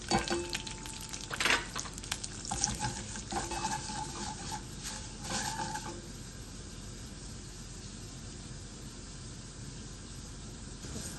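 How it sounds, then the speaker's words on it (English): Vermicelli noodles dropped into hot oil, crackling and sizzling steadily with some stirring clatter early on before settling into an even, moderate frying hiss. "we're gonna add the vermicelli noodle to the hot oil"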